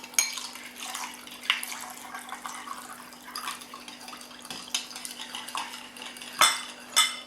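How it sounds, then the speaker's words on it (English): A spoon stirring pizza dough mixture in a bowl as lukewarm water is added, soft scraping and clinking strokes with occasional sharper knocks against the bowl, quiet and close, with a faint steady hum underneath. "keep stirring it while you add the lukewarm water"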